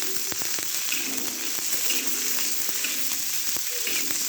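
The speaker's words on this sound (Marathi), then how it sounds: "आपण आता त्यामध्ये मिरचीचे काप टाकणार आहोत चांगली अशी परतून घेतली" Chilli slices frying in a ladleful of oil give a steady, close crackling sizzle with scattered sharp pops throughout, and no voices are heard.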